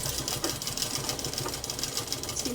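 A sewing machine stitches along a skirt folded in half, running in a fast, even mechanical whir with rapid needle ticks, close up and without talk.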